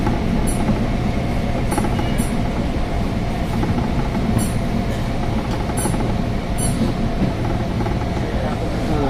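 KRL commuter train rolling on rails toward Jakarta Kota, a steady loud rumble of wheels and carriage noise with repeated sharp high squeals and clicks from the track, heard from on board with no talk.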